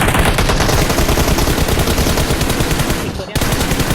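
Rapid automatic gunfire in the battle royale video game PUBG fills the clip in dense, loud bursts. The firing breaks off briefly near the end and then resumes.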